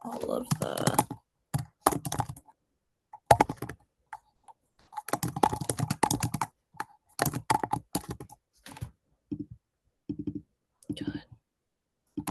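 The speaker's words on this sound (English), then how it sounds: "let me just start typing out all of the" Computer keyboard typing in bursts of rapid clicking keystrokes, loud and close, separated by short pauses, with a few stray clacks toward the end.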